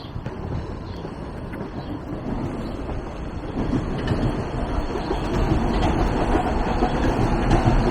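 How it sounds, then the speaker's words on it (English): A southbound commuter train rumbles past beside a trail in midtown Toronto with a broad, rushing roar and faint rattling of wheels, growing slightly louder toward the end; no talking. "There goes a southbound train."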